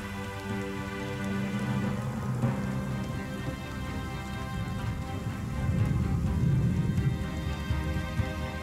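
Rain pours across the Kalahari desert, a dense continuous hiss of drops hitting the ground that swells louder toward the end, with a faint rumble beneath.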